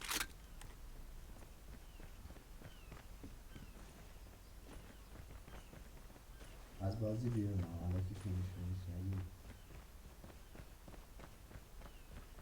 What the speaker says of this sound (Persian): صدا پات داره برا من میاد.